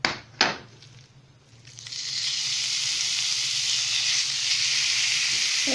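Minced beef sizzles in hot sunflower oil in a frying pan, a steady loud frying hiss that begins after a couple of sharp clatters and continues unbroken to the end, with no talking.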